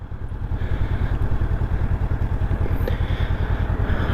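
A 2019 Honda CB500X motorcycle engine pulling in first gear, a close, loud, steady throbbing exhaust pulse with fast rhythmic firing, holding strong throughout without speech.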